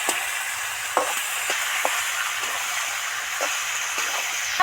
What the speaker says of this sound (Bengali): এবার ভালো করে নাড়তে থাকবো